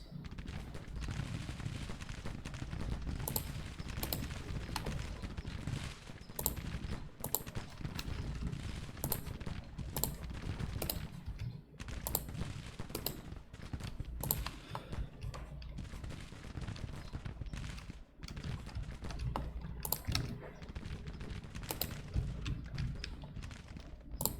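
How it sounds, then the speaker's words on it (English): Civil War battle gunfire in a video game: steady crackling musket volleys and scattered sharp shots under a low rumble for the whole stretch, with a few louder bursts standing out. "They are in there shooting at Wilcox"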